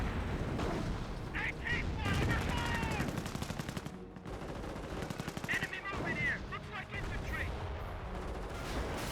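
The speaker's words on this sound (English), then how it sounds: "Pack 38 just firing away." Battle noise from Company of Heroes with a Pak 38 anti-tank gun firing: repeated loud gunshots and rapid bursts of fire, dense and continuous, with a commentator talking over it.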